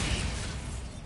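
Bombarda exploding spell from the Hogwarts Legacy video game: a loud, dense blast with a sharp initial burst that rumbles and decays over about a second, heard alone.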